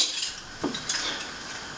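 Metal cookware and measuring utensils clink and clatter on a kitchen counter as a pan and measuring tools are set out, a few light scrapes and knocks close by with no talk.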